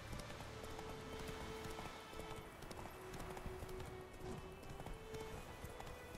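A horse gallops in The Witcher 3, its hoofbeats drumming in a steady, rhythmic run over several seconds, moderately close beneath a low ambient game backdrop.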